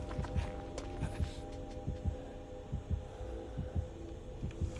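In a survival video game, a chaser draws near and a warning heartbeat plays as a steady run of soft, low double thumps over a faint constant hum, with no voices.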